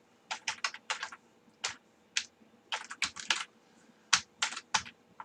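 Code being typed on a computer keyboard: close, crisp keystrokes in quick clusters with short pauses between bursts, alone in a quiet room.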